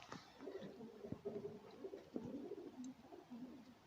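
Soft, low pigeon cooing repeats in gentle rolling phrases, fairly close, over a faint background hum.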